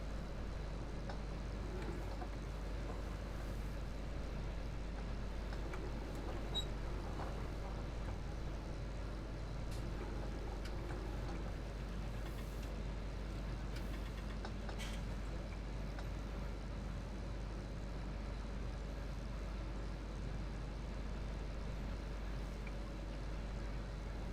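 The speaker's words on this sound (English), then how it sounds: "The tractor that I'm in right now with the loader that you're talking about is the T6." A T6 tractor fitted with a loader in Farming Simulator 17 runs with a steady low engine drone, quiet and unchanging throughout, with no speech.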